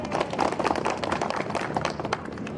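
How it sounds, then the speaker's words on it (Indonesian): Scattered clapping from a small crowd, a loose patter of hand claps running steadily throughout without any voices. "Ada yang tepuk tangan ada enggak nih Pak Kebakok?"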